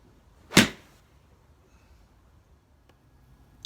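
A TaylorMade P770 forged iron strikes a golf ball with one sharp, loud impact near the start, followed by quiet and a couple of faint distant clicks.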